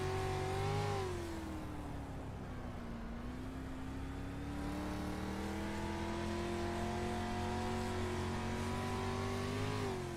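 Dirt street stock race cars roar around the track at Lucas Oil Speedway, a continuous loud engine drone with pitch swells as throttles open and ease off through the turns.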